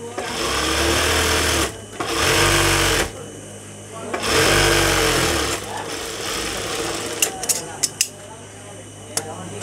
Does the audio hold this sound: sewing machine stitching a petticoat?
yes